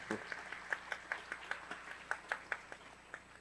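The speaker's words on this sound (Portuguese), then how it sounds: "Uma salva de palmas para Hélio Santos" Sparse, light clapping from a panel audience on racial and gender equity, a handful of distinct claps in an uneven rhythm, faint and thin, with a voice speaking over them.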